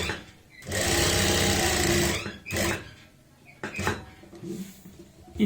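An electric sewing machine stitches a pocket in a long, close, continuous run, then makes shorter bursts punctuated by clicks and handling noises.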